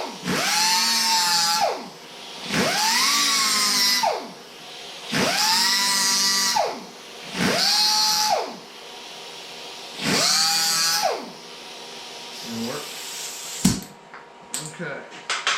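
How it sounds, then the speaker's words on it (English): A power tool sharpening a nutsert tool, running in five loud whining bursts of about a second and a half each with short pauses, followed by quieter handling noises. "I'm going to sharpen this up."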